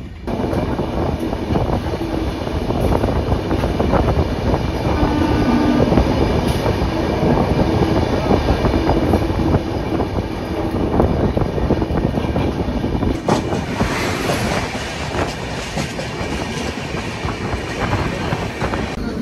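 A passenger train runs through Cherlapalli railway station in India, its steady rumble and rail clatter continuous and loud throughout, with a brighter shift in the wheel noise near the end.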